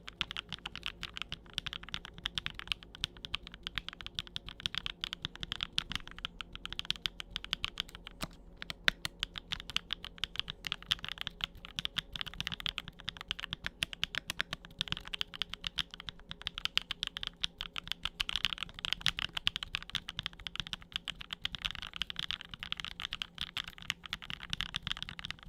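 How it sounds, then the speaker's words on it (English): Someone types continuously on a computer keyboard up close in an ASMR setting, with dense, rapid, crisp key clicks and clacks in an uneven rhythm, steady for the whole stretch and with no talking. "we got that keyboard, and I got one more keyboard we'll do"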